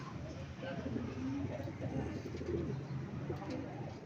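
Racing pigeons coo steadily at their loft on arrival after a race lap, a soft continuous murmur of several birds at close range with voices talking in the background.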